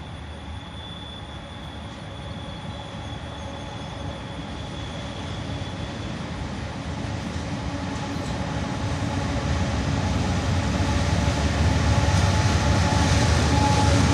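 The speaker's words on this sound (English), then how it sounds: "A pair of Jevos crossing the bridge. An ES44AH leads" A CSX freight train led by a pair of GE locomotives, an ES44AH and an ES40, crosses a bridge with a steady rumbling roar that slowly builds in loudness, with no voices.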